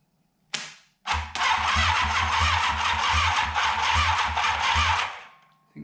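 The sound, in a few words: Honda CB550 motorcycle engine cranking with starter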